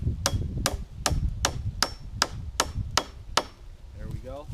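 A hammer drives a nail into wood while a squirrel trap set is built, about ten sharp, evenly spaced strikes close by, followed by a brief scraping sound.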